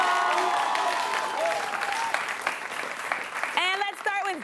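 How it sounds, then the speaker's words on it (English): Applause for school quiz-show competitors from Cypress Bay, a short round of clapping that fades under a presenter's voice before talk takes over. "Big round of applause from our competitors from Cypress Bay"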